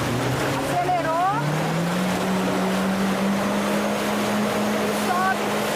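A jet ski accelerating on open water, its engine tone rising and then holding a steady loud drone over wind and water rush, with a voice speaking briefly over it.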